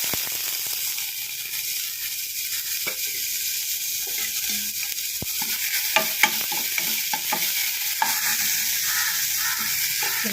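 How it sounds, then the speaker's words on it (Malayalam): Finely chopped banana flower fries in ghee with a constant broad sizzle, while a spoon stirs and scrapes the pan in scattered strokes and clicks, close and continuous throughout. "വാഴച്ചുണ്ട് ചെറുതായിട്ട് അരിഞ്ഞെടുക്കുക, എന്നിട്ടത് നെയ്ക്കകത്തൊന്ന് വറുത്തെടുക്കുക."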